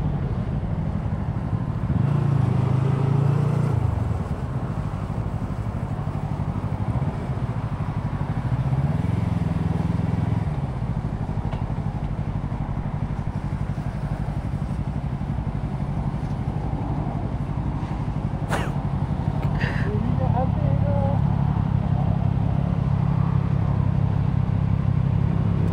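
Yamaha R25M motorcycle ridden on a morning road at Genting Awana, a close, continuous engine drone with a couple of revving surges early on, then steadier cruising, with no speech.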